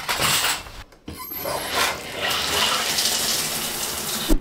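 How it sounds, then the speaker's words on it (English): Shower water runs steadily in a freshly deep-scrubbed bathroom, a dense continuous spray with a brief dip near the one-second mark, then a sustained even rush until the end. "this is gonna be a real nice fresh shower"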